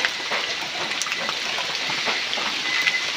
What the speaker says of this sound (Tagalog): Umuulan pa rin guys dito.